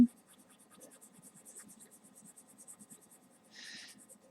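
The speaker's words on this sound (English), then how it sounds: "I took my colored pencil and I just kind of colored in a circular motion" Soft, continuous scratching of a colored pencil moving across paper in small circular strokes, quiet and close, with a brief brighter rasp near the end.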